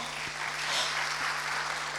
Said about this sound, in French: Bravo pour applaudissez les 3 gagnants.